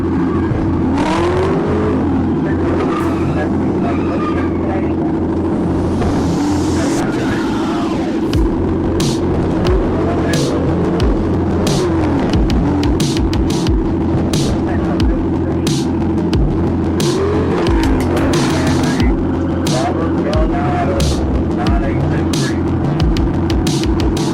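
A Chevrolet Camaro's engine throbs and revs hard at speed as the car falls apart, with scraping and clattering bursts over a loud, continuous drone close by.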